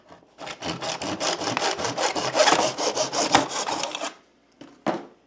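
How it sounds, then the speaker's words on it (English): Hand saw cutting through a piece held in a miter box, a close, loud run of rapid back-and-forth rasping strokes lasting a few seconds, then a brief pause and a final stroke. "Put this in your miter box. Put a tight grip on it and then just cut."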